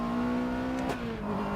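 Rally car engine in the game Dirt 4, revving with rising and falling tonal whine and a brief crackling burst partway through, fairly quiet and continuous.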